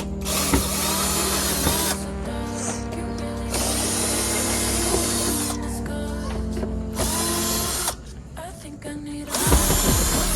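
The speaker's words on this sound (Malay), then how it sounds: "Kalau kita buka skru ni" Screws are worked loose on a Perodua Alza number plate with a tool that gives loud, sustained ratcheting and whirring bursts broken by short pauses and clicks, with faint handling noises between.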